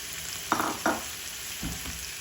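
A quarter kilo of pork sautéing in a hot pan, a low steady sizzle broken by a few short scraping stirs of the spatula, close and moderately quiet with no talking.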